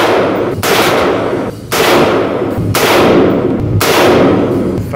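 Four loud rifle shots ring out at a 25-yard range, fired through an Atibal Velocity 1-4x scope with .223 rounds, spaced about a second apart, each with a sharp crack and a trailing echo.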